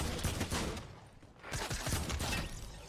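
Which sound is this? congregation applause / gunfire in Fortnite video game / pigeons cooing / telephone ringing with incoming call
gunfire in Fortnite video game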